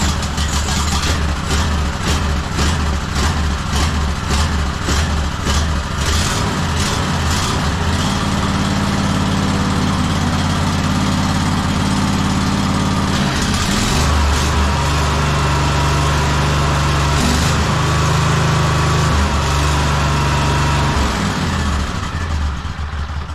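Engine running at idle after a choke test, a steady loud drone that settles into a lower, smoother rhythm partway through and continues without talk.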